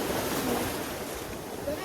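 Ocean waves on a beach give a continuous, fairly soft wash of surf mixed with wind noise on the microphone.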